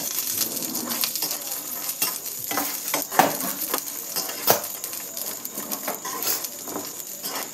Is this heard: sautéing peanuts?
yes